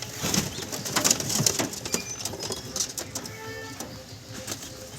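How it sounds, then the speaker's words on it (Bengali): Red pigeons on a rooftop loft, soft cooing mixed with brief wing flaps and scattered scuffling, fairly faint with background noise throughout. "লাল পায়রা দেখি লাল পায়রা"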